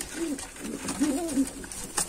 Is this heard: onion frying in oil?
no